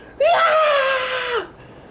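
A surfer lets out a long, loud, joyful screech after riding a barrel wave at Skeleton Bay, one sustained rising cry lasting over a second with no talk.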